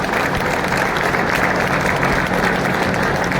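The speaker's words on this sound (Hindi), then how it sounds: "सारी भीड़ खड़ी होकर तालियां बजा के आपका स्वागत करे" Political rally crowd in Rania, Haryana applauding together, a dense steady wash of clapping filling the whole stretch at constant loudness with no pauses.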